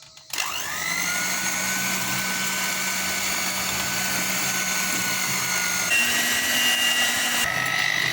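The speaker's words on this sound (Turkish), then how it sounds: "Mikserimiz en yüksek derecesiyle çırpıyoruz." An electric hand mixer whirs steadily at its highest speed, whisking eggs and sugar for cupcake batter, a constant motor whine that shifts pitch slightly near the end.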